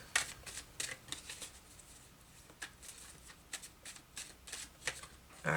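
Wizard Tarot cards being shuffled by hand, a series of crisp riffling bursts and soft slaps in an irregular rhythm, close and fairly quiet.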